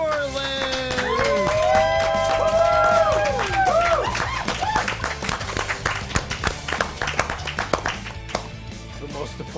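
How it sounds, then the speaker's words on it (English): An audience claps and cheers as the host of WDW News Tonight is introduced, a lively burst of applause beneath a rising musical sting, then thinning to scattered claps near the end. "Most applause I've heard in months."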